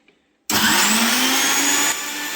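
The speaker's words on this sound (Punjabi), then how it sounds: "ਤੇ ਹੁਣ ਆਪਾਂ ਇਹਨੂੰ ਜੀ 10 ਮਿੰਟ ਚਲਾਵਾਂਗੇ ਲਗਾਤਾਰ ਮਸ਼ੀਨ ਤੇ ਹਾਈ ਤੇ" A cotton candy machine switches on at high speed partway through, going from near silence to a loud, steady whirring roar that drops slightly near the end.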